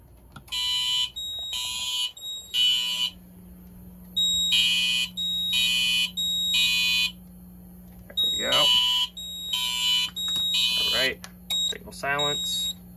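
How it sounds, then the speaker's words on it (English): A Wheelock fire alarm system, set off by a smoke detector during a test, blares a Code 3 tone in repeated on-off bursts with a steady hum underneath, while a person speaks briefly near the end. "we will move on to re-alarming the system using one of the smoke detectors"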